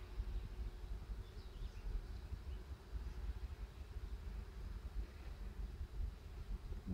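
Honeybees buzzing around a hive frame during colony splitting, a steady low hum, soft and continuous with faint wind noise.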